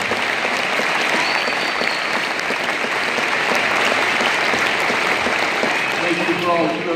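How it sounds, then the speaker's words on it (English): An audience at a celebration for state champion high school basketball players applauds, giving steady, dense clapping that carries evenly throughout with a faint whistle or cheer near the end. "please join me in a round of applause for the families of these young men"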